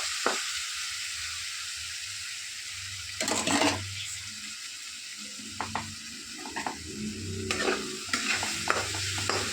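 Food sizzles steadily in a pan on the stove while a spoon stirs and scrapes through it, giving several louder scraping bursts over the continuous frying hiss.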